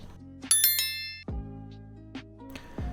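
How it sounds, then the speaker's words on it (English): A bright bicycle-bell style notification ding rings out as a sound effect, sharp metallic strikes followed by ringing tones that decay, then a few more chimes, close and clear with no talking. "hit the notification bell"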